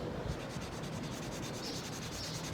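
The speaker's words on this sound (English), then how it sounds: "Kind of sounds like I'm scribbling because I'm rushing." Quick scribbling as paper is rapidly colored in, a steady soft rubbing scratch with fast repeated strokes, close but faint, continuous throughout with no talk.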